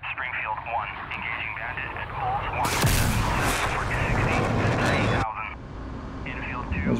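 Weapon fire at an enemy ship in an F/A-18 Hornet Desert Storm flight game, a loud sustained burst of firing roughly three seconds long that cuts in abruptly over steady cockpit and radio noise.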